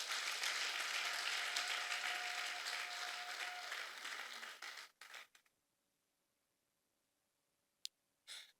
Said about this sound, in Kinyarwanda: ni mumpera Imana amashyi menshi cyane